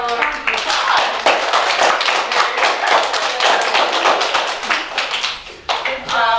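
A class of third graders gives a classmate a round of applause at a historic one-room schoolhouse, a dense burst of small hands clapping steadily for several seconds, close and lively, with a brief dip near the end before picking up again.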